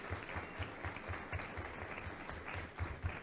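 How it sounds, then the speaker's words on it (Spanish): Audience applause for a professor at an anniversary lecture event, distant steady clapping from a crowd with slightly uneven rhythmic peaks throughout. "Un aplauso fuerte"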